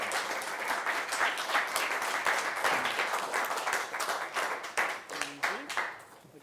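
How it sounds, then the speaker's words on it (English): Audience at a high school poetry event clapping for a poet, a dense, steady round of applause from a crowd that thins toward the end, with some voices mixed in. "Let's give a warm round of applause from the Xavier School."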